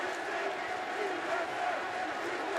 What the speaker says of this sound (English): They're still chanting for him.